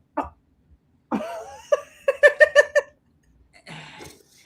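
A short burst of several sharp, rhythmic coughs, close and fairly loud, with brief breathy sounds before and after.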